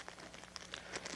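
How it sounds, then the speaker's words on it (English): Small plastic bag holding piston snap rings is opened by hand, giving soft, close crinkling and rustling in a few quick bursts, quiet and without talk. "Open the plastic bag"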